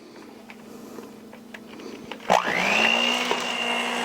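Cookie dough for cream cheese cookies, with a pinch of kosher salt added, being mixed by an electric mixer that whirs up after scattered clinks and settles into a steady, close, loud motor whine.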